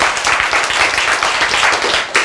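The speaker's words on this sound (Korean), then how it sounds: "박수가 안 쳐지더라도 박수 칠 만한 말입니까?" Clapping from an audience at a lecture-style talk rings out loud and close, a dense burst of many hands beating steadily for about two seconds before it tapers off sharply.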